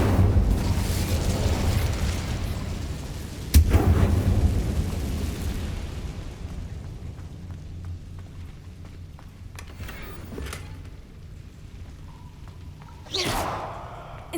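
Incendio fire spells cast in the Hogwarts Legacy video game: a sudden fiery burst around the fourth second and another near the end, over a steady rumbling magical ambience, with no talking.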